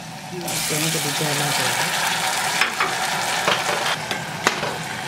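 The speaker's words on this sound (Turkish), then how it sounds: "Bunları biraz bir kavurarak pişiriyoruz." Diced tomatoes and peppers sauté over onions in a pan for a Turkish okra dish, sizzling steadily with stirring scrapes and a few sharp clinks, while a voice talks over part of it.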